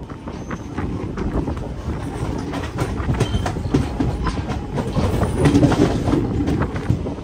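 The Venkatadri Express rolls along the rails near Pakala Junction with a steady, loud rumble and repeated clickety-clack wheel beats, a brief faint squeal above the constant low roar.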